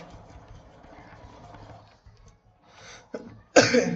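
Two sharp coughs from a man with a cold burst out near the end, close and loud, after a stretch of quiet low hum and faint murmuring.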